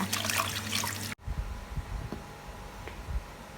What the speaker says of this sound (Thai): เราจะเราจะล้างน้ำปูนใสนะคะ ประมาณ 3-4 รอบนะคะ ล้างให้สะอาดนะคะ